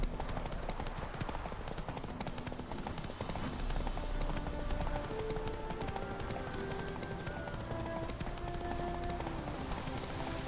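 Steady rapid hoofbeats of a galloping horse drum on continuously over a dense, busy background of game sound and music.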